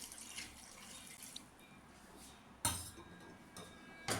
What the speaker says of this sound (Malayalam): പച്ചക്കറി വേകാൻ ആവശ്യമായിട്ടുള്ള വെള്ളം ഒഴിച്ചു കൊടുക്കുക